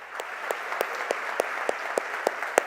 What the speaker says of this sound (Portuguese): Pelo menos aplauda Jesus